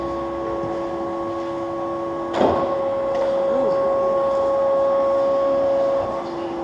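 The nose and visor mechanism on Concorde 101 at Duxford lowers the visor to the 5-degree setting. A steady mechanical whine with sustained tones plays throughout, broken by one sharp clunk partway through.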